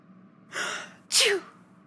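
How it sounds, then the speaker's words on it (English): Two quick sneezes from a person, the first a breathy intake and the second a sharp, louder burst, close and alone with no talk. "Why are you sneezing so much?"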